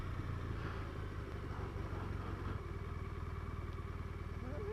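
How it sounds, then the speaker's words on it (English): A 2016 BMW R1200RT motorcycle's boxer engine runs at a steady idle, a continuous low throbbing rumble with a mechanical clatter, close and unchanging. "It's just on right now just because I have the bike running."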